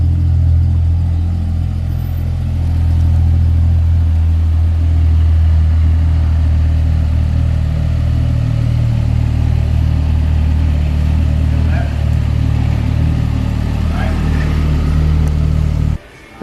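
Turbocharged Ford Falcon FG engine with a ghost cam idling loudly and steadily up close, a deep, lumpy, continuous rumble that holds for about sixteen seconds before cutting off abruptly.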